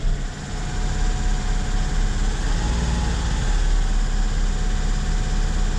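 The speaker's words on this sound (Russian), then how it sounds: "Ну, только большоватые холостые. И у него пропуски зажигания, кстати, Лена." A car engine idling high and steady with irregular misfires, its low rumble and vibration continuous and close throughout, with no voices over it.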